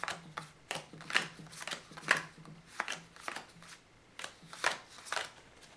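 A Smith Waite Centennial tarot deck is handled and leafed through card by card, soft papery flicks and snaps coming in a quick uneven rhythm, close and quiet.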